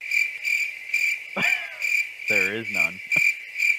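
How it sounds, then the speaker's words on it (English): Crickets chirp in a steady rhythmic pulse, about two bursts per second, clear and close, with a couple of brief other sounds cutting in over them. "I'll insert crickets right here"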